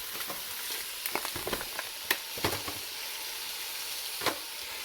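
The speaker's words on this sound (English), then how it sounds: "And then I'm going to throw in the beef." Pieces of beef dropped into a hot sauté pan for beef bourguignon, a sharp burst of sizzle and crackle followed by a steady close frying hiss with occasional pops, no voices.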